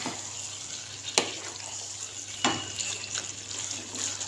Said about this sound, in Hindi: हमें इसे अच्छे से मिक्स कर लेना है